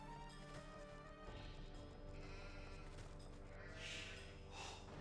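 Sheep bleating in the Age of Empires strategy game, with a couple of bright bleats standing out near the end over a dense, continuous bed of game sound and music.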